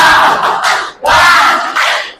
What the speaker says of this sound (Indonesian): Coba kita tepuk semangat dulu. Tepuk semangat.